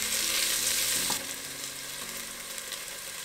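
Onions frying in a pan for jeera rice, a loud, hissing sizzle for about a second that then drops to a quieter, steady frying with faint stirring.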